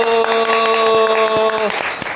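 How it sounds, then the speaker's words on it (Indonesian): A talk-show audience claps in quick, crisp bursts, with a sustained tonal voice or sound ringing through the clapping before it fades. "So, tepuk tangan dulu."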